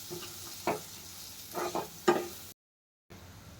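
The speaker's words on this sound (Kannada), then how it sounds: "ಇವಾಗ ಶುಂಠಿ ಬೆಳ್ಳುಳ್ಳಿ ಪೇಸ್ಟ್ ಕೂಡ ಫ್ರೈ ಆಯಿತು, ಹಸಿ ಬಟಾಣಿ ಕೂಡ ಫ್ರೈ ಆಯಿತು." Green peas and ginger garlic paste frying in a pan for veg kurma, with a low sizzle and a few distinct spatula scrapes and knocks, then a short silent gap before the sizzle returns.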